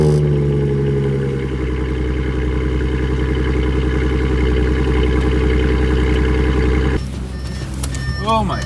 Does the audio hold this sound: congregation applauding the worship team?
no